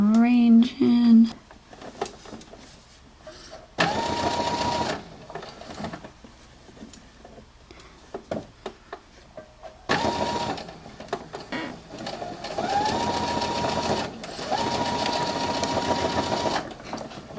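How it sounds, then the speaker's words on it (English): A sewing machine stitching fabric for a headband in short bursts of rapid, loud whirring, with pauses between runs as the fabric is turned; a voice talks in the gaps. "Sewing a little bit, then rearranging."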